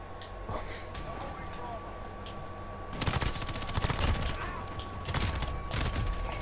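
Bursts of M13 assault rifle fire in Modern Warfare crack out in rapid volleys, loud and close, punctuated by short pauses amid a steady game background hum.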